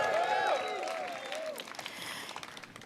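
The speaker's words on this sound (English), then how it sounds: "Let's give another round of applause for Jude." Audience applause at a hunger strike press conference, a brief wash of clapping that fades over a few seconds, with a voice trailing off at the start.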